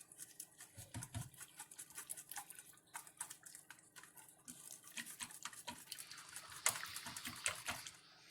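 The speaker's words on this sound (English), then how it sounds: "just going to whisk that to combine" A whisk works quickly through a barbecue sauce meatloaf mixture, producing faint, rapid wet taps and scrapes in an uneven rhythm, quiet and close with no speech.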